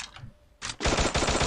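Rapid automatic gunfire in a shooter video game, short fast bursts of shots starting abruptly and rattling loudly close up after a quiet moment.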